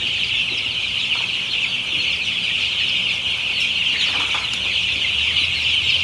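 Chickens cluck steadily nearby over a constant high, buzzing background din, with occasional faint wing flutters.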